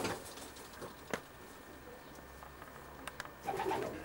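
Pigeons coo softly inside a racing-pigeon stock loft, with a few low calls and rustles against a quiet indoor room tone, closing on a slightly louder cluster of coos.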